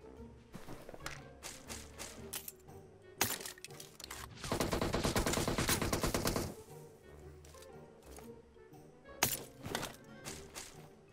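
A shooter video game fires sniper rifle shots for a headshot. Sharp, isolated cracks stand out, with a dense burst of rapid gunfire in the middle over footsteps and game ambience.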